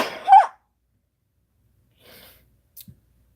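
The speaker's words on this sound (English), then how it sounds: "That was me sneezing." A single sharp human sneeze at the start, followed by near silence with a faint breath and a tiny click later.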